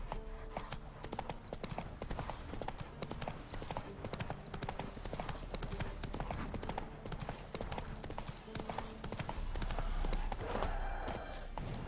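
Horse hooves clip-clop in a steady, continuous rhythm, loud and close throughout, over a dense background.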